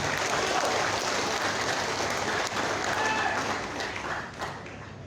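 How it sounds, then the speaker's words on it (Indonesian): Hall audience giving a lively round of applause to welcome the chairman at a Batak youth organization's first anniversary, a dense continuous clatter of many hands that holds steady, then eases slightly toward the end. "Hadirin, sambut beliau dengan tepuk tangan yang meriah."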